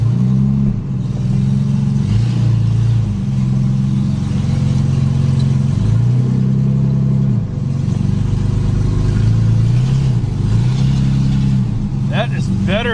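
An abandoned barn-find Jaguar, run again after 20 years, is driven with its engine droning loudly and steadily and rising in revs several times. Voices sound over the engine.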